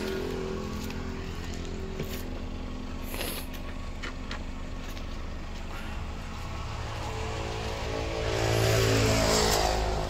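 Honda Civic engine idling nearby, a low steady hum with a slight rise in revs near the end, recorded outdoors with faint background noise and no talking.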